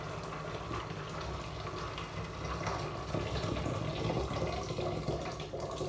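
Boiling hot water pours steadily into the pot of a Pressure King Pro pressure cooker, a continuous rushing, filling sound that stays close and fairly loud throughout.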